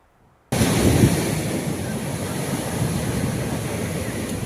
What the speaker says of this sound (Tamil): கடல் அலைகள் 10 அடி உயரத்திற்கு மேல் எழும்பி வருகிறது.